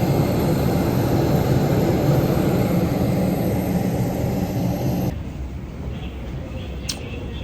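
Airplane engines roar steadily in a broad, loud rumble while passengers sit aboard for a holiday flight, the noise dropping to a quieter hum partway through.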